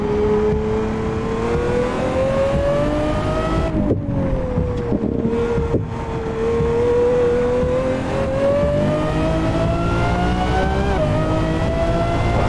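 Lamborghini Aventador SVJ engine revving on a wet track, a loud sustained roar whose pitch climbs and dips across several gear changes with brief drops between shifts, close and continuous.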